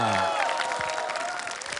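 A school audience claps again for the class teacher: a voice finishes speaking, then a moderate burst of crowd applause follows, with a faint sustained tone running underneath.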